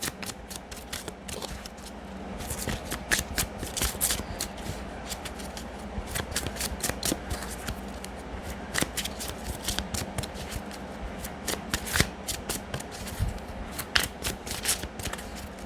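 Angel Medicine Oracle cards being shuffled by hand, a long run of quick crisp riffling snaps and soft slides, close and steady, no voices.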